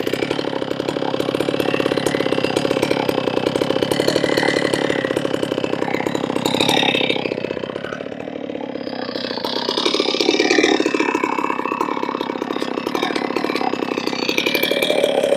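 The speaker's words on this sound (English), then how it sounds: "when the saw revs out, I push the heel in" A chainsaw milling a huge white pine runs continuously at close range, its engine buzzing loudly, dipping briefly under load before revving back up.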